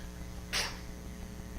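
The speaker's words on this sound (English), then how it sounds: "No sneezing, please." A single short sneeze bursts out in a lecture room, fairly faint and alone against a low steady hum.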